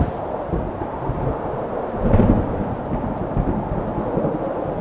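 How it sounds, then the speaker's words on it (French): A tropical-style thunderstorm with wind and rain roars in a dense, steady wash, with a louder rumble of thunder swelling near the middle and then falling back into the continuous storm noise. "Mais c'est comme le vent plus les éclairs, la pluie"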